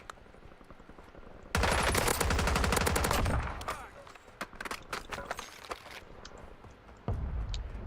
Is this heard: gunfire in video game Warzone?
yes